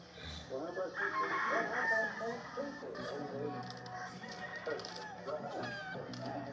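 A rooster crows repeatedly, close and loud, with hens clucking around it and people talking in the background.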